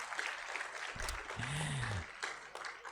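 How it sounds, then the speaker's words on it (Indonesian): Steady applause from an audience at a graduate send-off ceremony in a university medical faculty auditorium, a continuous soft wash of clapping heard at a distance, with a brief low voice partway through. "Tepuk tangan boleh?"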